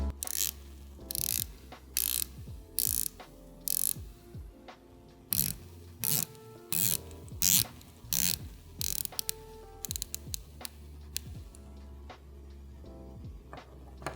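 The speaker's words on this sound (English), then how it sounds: "I think the Aquis has the most satisfying bezel action in its price tier." Ceramic bezel of an Oris Aquis 41.5mm dive watch is turned by hand, giving sharp, close ratcheting clicks in quick runs separated by short pauses, quiet and isolated with no talking.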